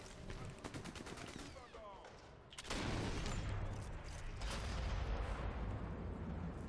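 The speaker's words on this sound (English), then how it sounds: "Pulling sniper rifles to blow people's heads off from 38 meters away." Gunfire in Sniper Elite 4, with a rapid run of sharp shots early on, then a heavy boom near the middle followed by dense, sustained battle noise, loud and close.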